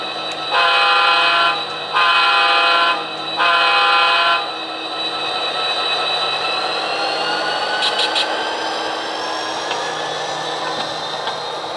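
A model railway locomotive backs up to couple onto its hoppers, sounding three long horn blasts before a steady rolling rumble with a few faint high clicks.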